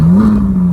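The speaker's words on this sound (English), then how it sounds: "There's nothing like a V8 Ferrari." Ferrari 458 Italia V8 engine giving a brief, smooth rising-then-steady note, loud and close over a low rumble, lasting under a second with no voices.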